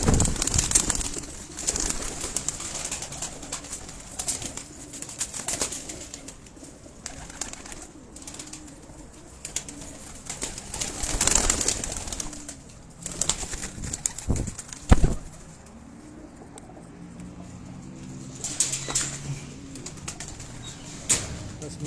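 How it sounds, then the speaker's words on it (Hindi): Male flying pigeons in a breeder's loft coo steadily and close by, with occasional wing flaps and rustling over soft background noise. "टोटल उड़ने वाले ये नर हैं और मादियाँ आज बाहर निकाली हुई हैं तो यही कबूतर हैं"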